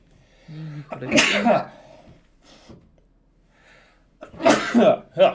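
Two bursts of sneezing, one a single sharp sneeze and a later louder double sneeze, close to the mic, with faint murmuring in between.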